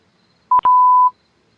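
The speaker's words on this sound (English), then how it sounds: "Wow, that beeping noise" A loud electronic tone beeps with a short chirp, then holds a steady beep of about half a second, clear and alone against near silence.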